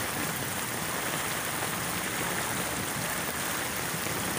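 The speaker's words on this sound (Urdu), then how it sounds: "اور بارش بھی جو ہے نا وہ لگاتار لگی ہوئی ہے" Heavy, steady rain pours over Nala Lai, a stream flooding in Gujar Khan, making a loud, unbroken wash of water with no pauses and no voices.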